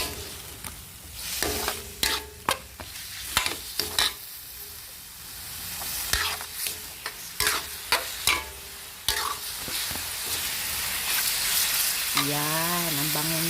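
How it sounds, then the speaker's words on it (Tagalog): Chicken frying with garlic in a pan, stirred with repeated scraping strokes over a steady close sizzle, with a brief whining tone near the end. "ilagay ko na ang manok. Yan, tapos haluin ko ng maigi"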